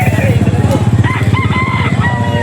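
A bull stag rooster at a busy poultry market crows loudly and close by, with its drawn-out call rising over rapid clucking and market chatter.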